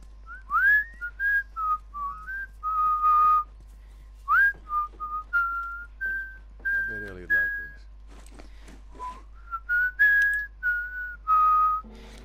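A person whistles a video game theme, a clear, close melody of separate phrases with short pauses between them, and a faint breathy rustle partway through.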